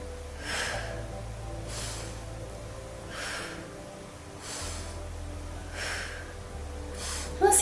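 Slow, deep breaths drawn in and pushed out during a gentle healing exercise, four airy swells spaced evenly over a low steady hum, close and moderately loud.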